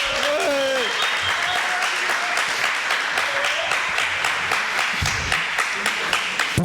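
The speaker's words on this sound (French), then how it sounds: "On peut applaudir." Audience applause at a Jura football derby between FC Courtételle and FC Bassecourt: a dense wash of clapping with crowd voices, steady and fairly loud throughout.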